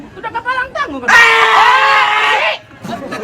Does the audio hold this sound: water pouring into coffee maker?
no